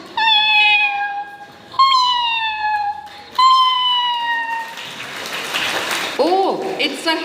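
A person on stage at a school prize ceremony imitates a cat meowing, three clear drawn-out meows in succession, followed by audience applause and cheering with a brief final mew over the noise.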